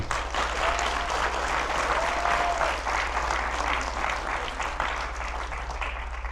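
Audience applause at a talk on Pakistani cinema music, a dense sustained round of clapping from a crowd filling the room, steady and moderately loud throughout.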